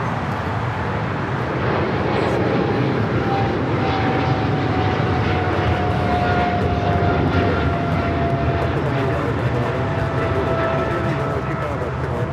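An airliner rolls down runway 25 right at Los Angeles airport, its engines a broad, steady roar with a thin rising whine laced through it, close and continuous, with voices talking faintly underneath.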